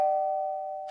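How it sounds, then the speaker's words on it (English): Cartoon doorbell ringing after wires were connected together: a single sustained electronic ding tone holding steadily for nearly a second, fairly clear and alone, fading slightly before a burst of noise at the end. "The doorbell's ringing because Fire connected the wires together."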